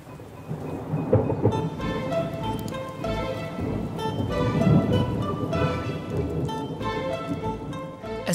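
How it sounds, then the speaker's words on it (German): Rain shower with rolling thunder high in the mountains around an Alpine village, steady rain hiss throughout with deep rumbles building and swelling, loud and close, no talking. "Von diesem bisschen Regen lässt sich aber niemand aufhalten."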